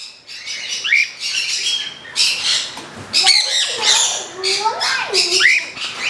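A batch of large, pure-white cockatiels squawks continuously and loudly at close range, a dense overlapping chorus of harsh calls and chirps.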